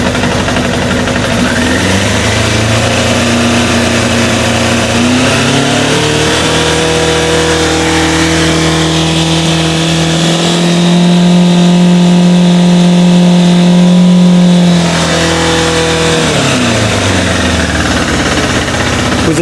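A Suzuki Bandit motorcycle engine runs with the choke on during carburettor balancing, loud and close, its revs climbing and falling in slow swells over a rough idling rumble, with no talking.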